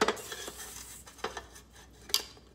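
A spatula scrapes and taps around a metal stand mixer bowl holding creamed batter for grain-, gluten- and dairy-free holiday baking, giving a few sharp clinks between soft scraping strokes, close and fairly quiet.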